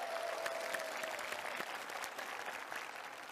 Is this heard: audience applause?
yes